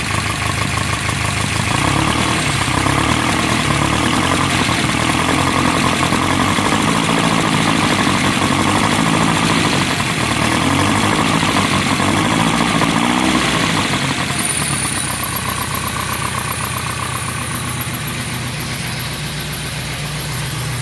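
A car engine idles steadily for a long stretch, a loud low rumble with a constant throb, close by and without any talking.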